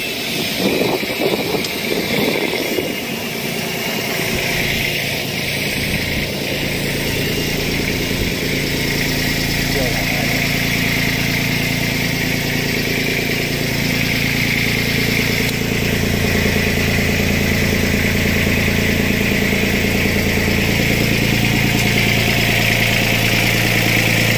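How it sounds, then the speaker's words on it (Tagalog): A Yanmar diesel sailboat engine with water mixed into its oil idles steadily and loudly, a constant low mechanical thrum with a rattling hum that holds throughout. "tayo ngayon pinanda na natin yung makina"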